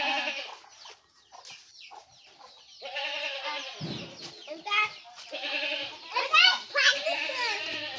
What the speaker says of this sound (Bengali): এটা মানে রাম ছাগল